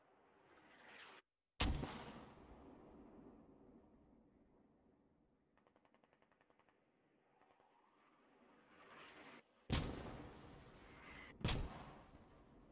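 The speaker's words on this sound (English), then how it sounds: "Mortar's incoming." Incoming mortar rounds in the video game Squad strike in several heavy blasts, with one at the start and two more near the end. Each is a loud, sharp boom that rumbles off over a quiet stretch between impacts.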